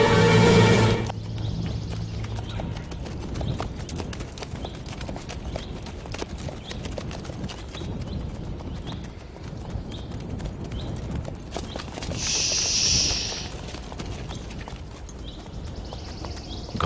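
Horses clip-clop steadily over ground in an outdoor scene from a historical drama, the hoofbeats continuous and fairly close, with a brief higher tonal burst partway through and no talk.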